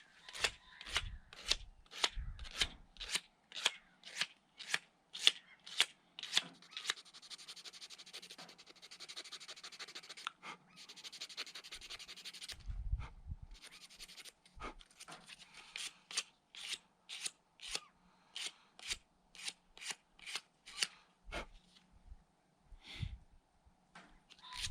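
Steady back-and-forth scraping of 100-grit sandpaper on a handmade fishing lure, dozens of quick rhythmic strokes close up, pausing briefly midway before resuming at an even pace.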